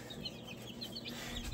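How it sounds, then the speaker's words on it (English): Small serama chickens cluck softly and continuously amid a steady low background hum, with scattered high chirps close by. "These are Shermans, the smallest chickens in the world."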